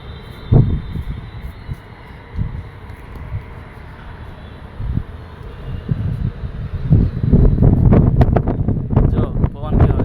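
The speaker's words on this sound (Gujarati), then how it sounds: "જો પવન કેવો જો જો" Strong wind buffets the microphone outdoors in a gusty, low roar that rises and grows heavier in the second half, with no speech over it.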